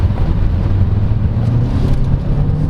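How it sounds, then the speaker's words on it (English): Interior of a 2022 Chery Tiggo 8 Pro SUV with a 1.6-litre turbocharged four-cylinder and wet dual-clutch gearbox, in eco mode at full throttle, a loud, continuous low engine drone and road rumble filling the cabin. "being a wet dual clutch transmission, eco mode, just floor it"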